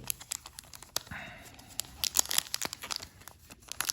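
Plastic foil wrapper of a Futera Olympique de Marseille football card pack being torn and crumpled open, with close, sharp crinkles and rips in quick irregular bursts.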